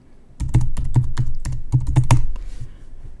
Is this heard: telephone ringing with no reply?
no